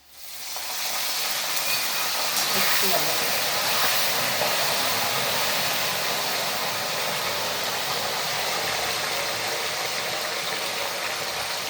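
Salt water splashed into hot oil in a pan of frying banana chips, setting off a loud, sustained hiss and sizzle that swells within the first second and holds steady, close and alone.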